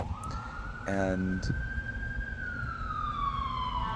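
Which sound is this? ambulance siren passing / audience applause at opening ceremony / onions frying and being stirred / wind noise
ambulance siren passing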